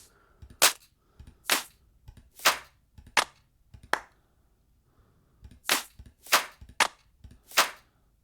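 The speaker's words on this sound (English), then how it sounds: "So let's get a clap in now" A crisp clap sample in a melodic deep house track, sharp isolated hits spaced in a loose rhythm over near-silence, each with a short bright tail.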